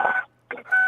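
A car's seatbelt warning chime beeps loudly and close, with two electronic tones separated by a short gap and no talking.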